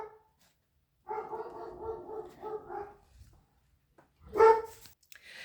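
A pet dog barks indoors: a run of several close barks, a pause, then one sharp, louder bark, with quiet gaps around them.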